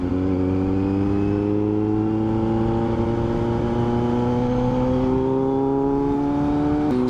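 A Kawasaki Z900 motorcycle engine drones loud and close while riding, with a steady tone rising slowly as the bike gains speed, then easing off near the end.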